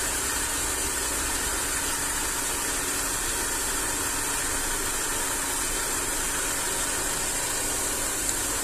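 A compact mini rice milling machine, the A3000 with a three-stage vibrating screen that filters sand and grit, runs at a constant, dense mechanical roar with no pauses or talk.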